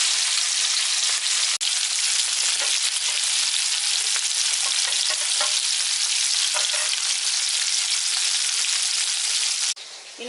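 Sankara fish roasting in a pan with homemade masala, a loud, dense, continuous sizzle heard up close that holds steady throughout and cuts off abruptly near the end.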